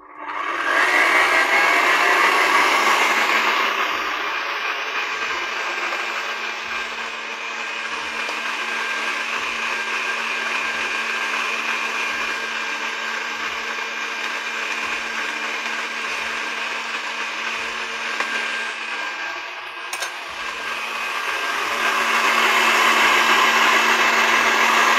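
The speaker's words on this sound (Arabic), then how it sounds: "لازم تكون الحليب بتاعنا يتخلط كويس جدا عشان السكر يدوب في بقية المكونات" An electric mixer blends milk for a mandarin bundt cake with a loud, continuous whine, slightly dipping midway and rising again near the end, heard alone.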